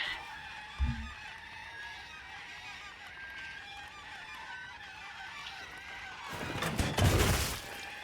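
Birds in the Monster Hunter Wilds video game honk in a loud, goose-like burst near the end, after a single low thump early on, over a steady game hum with no talk.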